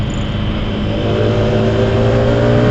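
A manual motorcycle engine drones close and loud, holding a steady rising pitch as it accelerates while shifting into third gear.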